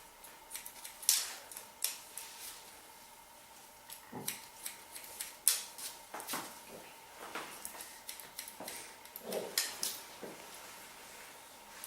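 Scissors cutting hair around the ears during a haircut, a series of light, close snips and clicks at irregular intervals against a quiet room.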